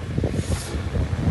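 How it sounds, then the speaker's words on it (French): Strong wind gusts buffet the microphone outdoors atop a hail-net frame, making a continuous low rumbling roar with uneven swells and no voices. "il y a pas mal de vent, je suis désolé"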